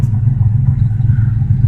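A car engine fitted with a newly installed 265 head idles at about 900 rpm, giving a steady, close, deep rumble that holds an even throb throughout with no voices.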